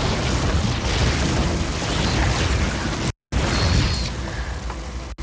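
Cannons attack a base in a StarCraft II match, a dense, continuous rumble of bursts and explosions that breaks off briefly, then resumes.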